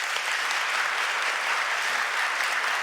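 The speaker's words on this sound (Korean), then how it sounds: "환영하고 박수로 인사드리겠습니다." Church congregation applauding two newly registered members during a Sunday worship service in Korea, a steady, dense patter of clapping filling the hall evenly without pause.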